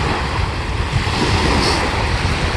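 Ocean waves on the beach at Ocean View Beach in Norfolk, Virginia, a continuous close rush of surf mixed with wind buffeting the microphone, with no speech.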